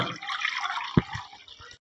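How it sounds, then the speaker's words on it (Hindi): Cold water poured into a bowl while making golgappa water, a short splashing pour with a sharp drip or splash partway through, then falling quiet and ending abruptly. "यहाँ पे हम ठंडा पानी लेंगे।"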